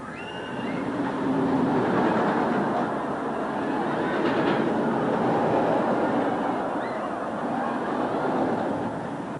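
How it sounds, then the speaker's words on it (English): The Laser roller coaster at Dorney Park rumbles steadily along its steel track in a broad, continuous clatter at moderate distance. The sound swells slightly and then eases, with no talk. "The third coaster here is the Laser. It will turn your world upside down, twice."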